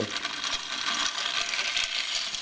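Gears of a wind-up kinetic sculpture turn with a steady, busy metallic ticking and rattling, close and moderately quiet, running on without pause and without talk.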